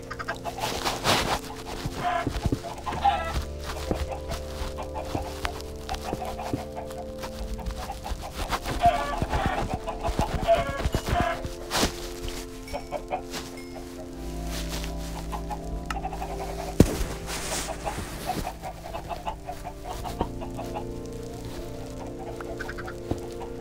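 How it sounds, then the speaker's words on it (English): A crowd of Minecraft chickens clucks continuously, many overlapping calls packed into a busy, steady game soundscape that runs without letup. "So many chickens."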